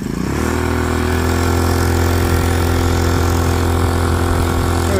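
An old 2-horsepower outboard motor that has been laid up a long time runs steadily and loudly close by, a continuous buzzing drone with a slight rise in pitch at the start, with no talking.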